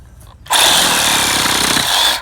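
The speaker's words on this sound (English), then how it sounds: "So the Ryobi is next over here. Let's see what it does to this nail." Ryobi 18 volt reciprocating saw cutting through a nail during fence repair, a loud, close, steady buzzing grind that starts abruptly and holds for under two seconds.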